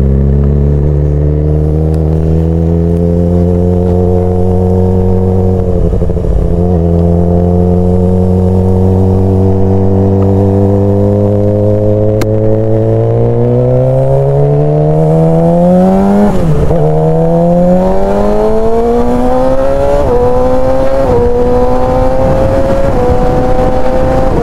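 A Suzuki GSX-R 600 motorcycle engine runs at low revs on the road, its tone climbing and dropping through several gear changes, loud and continuous for the whole stretch.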